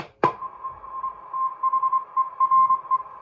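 A faint, steady shortwave radio tone drifts through hiss on an HQ-100 receiver, opening with a brief click and wavering weakly throughout.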